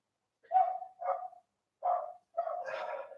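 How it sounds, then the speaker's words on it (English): A dog barks four times nearby, in two quick pairs separated by a short pause, the last bark drawn out and rougher. "the dog's barking."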